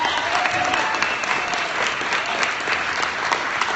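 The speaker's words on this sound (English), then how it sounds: "Will you guys give a round of applause for all of our storytellers?" Warm, continuous applause from an audience honoring a group of storytellers at a live event, a thick wash of many hands clapping at once with no pause and no talking.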